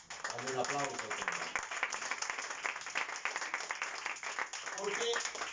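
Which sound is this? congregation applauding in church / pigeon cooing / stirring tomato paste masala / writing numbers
congregation applauding in church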